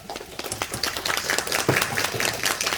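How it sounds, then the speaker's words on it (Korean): Theatre audience clapping for the actors at a curtain call, a fairly steady patter of hands that swells slightly toward the end, heard at moderate loudness from within the crowd. "오늘 공연해주신 배우들께 다시 한번 큰 박수 부탁드리겠습니다"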